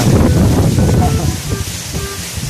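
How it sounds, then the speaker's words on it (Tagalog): Strong wind buffets the microphone beside a river in Mangaldan, Pangasinan, a loud, gusty low roar that eases slightly toward the end, with faint voices underneath. "Pasensya, napakahangin po, no?"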